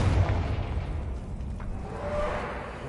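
A fiery Confringo spell explosion from the Hogwarts Legacy video game, a loud rumbling boom with a low, sustained roar and crackle that lingers for a few seconds without fading, with no talking over it.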